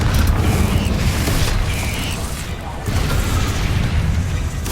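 A Confringo fire spell blasts in Hogwarts Legacy, making loud, dense booming rumbles that roll on with little pause. Possible voice sounds are buried in the blast.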